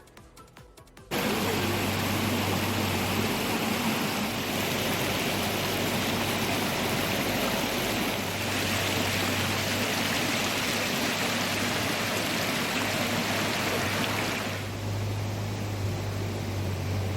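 Floodwater rushing past during a night of torrential rain in Nedumkandam, Idukki, Kerala, where a house was submerged, makes a loud, steady roaring hiss that begins abruptly and continues unbroken, with a low hum underneath and no voices.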